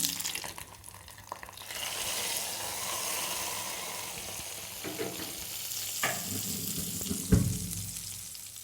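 Mustard seeds, dried red chillies and curry leaves sizzle in hot oil as a tempering for sundakkai puli kuzhambu, giving a steady close crackling hiss with a few sharper pops and clinks near the end.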